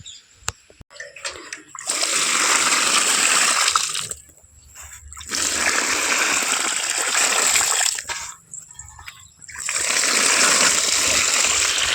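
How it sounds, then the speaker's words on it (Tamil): Water sprinkled over newly planted lemongrass, heard as three loud, close bursts of gushing, splashing spray separated by brief pauses. "அடுத்தபடியாக தண்ணீர் தெளிச்சுக்கலாம்"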